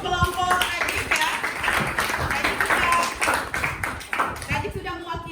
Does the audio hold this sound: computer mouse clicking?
no